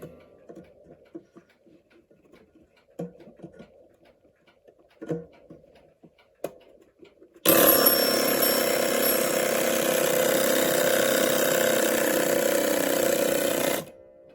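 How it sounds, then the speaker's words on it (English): After some quiet clicks and winding noises, the alarm of a 130-year-old Seth Thomas Eclipse clock starts abruptly with a loud continuous mechanical ringing buzz, runs about six seconds, then stops. "Let's hear the alarm for the first time in many, many years"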